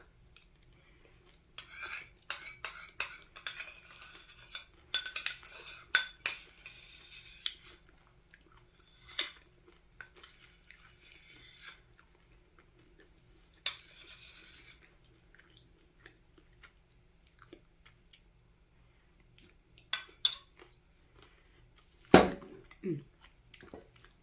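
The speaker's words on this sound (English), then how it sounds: "the sound of cutlery on dishes, I do find relaxing now" A metal spoon clinks and scrapes softly against a bowl of yogurt with pumpkin and sunflower seeds, in close, quiet, scattered taps mixed with faint chewing, and a few sharper knocks stand out near the end.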